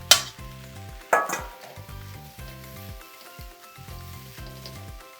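The white part of leeks sizzles as it fries with onions for kottu roti, a steady close crackle broken by a few metallic scrapes and stirs against the pan, with no talking.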